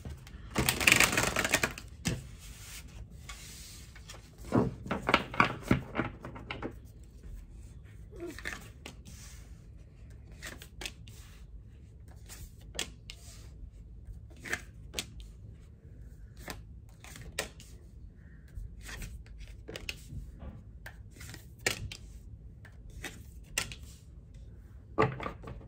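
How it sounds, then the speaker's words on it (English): Tarot cards are shuffled repeatedly in bursts of rapid riffling and soft slaps, with quiet pauses between, close and clear, no voices. "one more shuffle and we will get into it."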